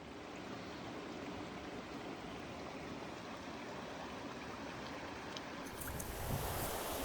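Water of Panther Creek rushing steadily along a trail crossing in rain, a loud continuous broadband roar close by with a brief louder surge near the end, no voices.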